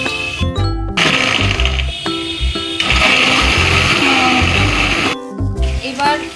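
Kitchen blender grinding green chillies, garlic, ginger and onion into a paste, loud whirring motor in several bursts with brief pauses between pulses, close up.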